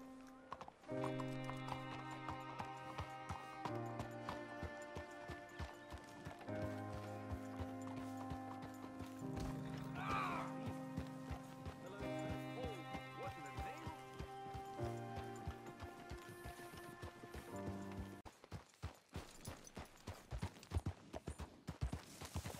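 Horse hooves clip-clopping in the Red Dead Redemption 2 game, a steady trotting rhythm set within a dense music score, with an occasional whinny and brief talk.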